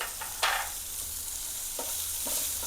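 Chopped green onions and a green chilli sautéing in a pan: a continuous close sizzle with a few sharp stirring scrapes and clicks, no talking.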